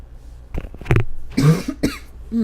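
Several loud, close coughs in quick succession, harsh and bursty, as if right up against the microphone, with short pauses between them.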